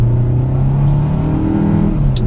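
A 2021 Kia K5 GT-Line sedan with a 1.6-liter engine and 8-speed automatic accelerates, a steady loud engine hum and drone heard from inside the cabin.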